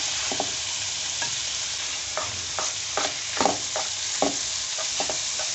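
Chicken mince frying with ginger and garlic in a pan, a constant close sizzle broken by a string of irregular spatula scrapes and stirring clatters, no voices.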